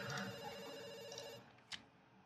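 Telephone ringing in the video game Dr. Langeskov, The Tiger, and the Terribly Cursed Emerald, a faint electronic ring tone that stops partway, followed by a brief click.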